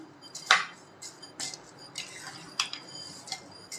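A spoon scrapes and clinks in a pan while roasted rice, coconut, sesame and roasted gram are mixed together, giving a series of quiet, irregular metallic taps and stirring scrapes close by.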